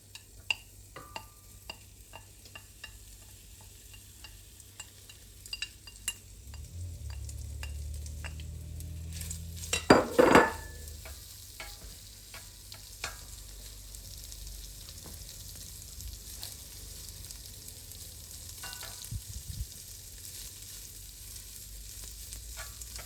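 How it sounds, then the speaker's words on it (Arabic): Thin slices of sheep tail fat fry in a pan for Iraqi shawarma. A soft sizzle swells after a quiet start, with a brief loud clatter of utensils in the middle before frying continues steadily. "هسه راح نحمس الليه"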